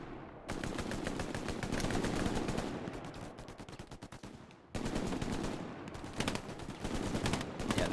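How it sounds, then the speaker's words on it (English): Machine gun fire in an 18-versus-18 team game match, rapid rhythmic bursts of automatic shots repeating loudly across the whole stretch, with a brief lull near the middle before the firing resumes. "that MG from Esprit"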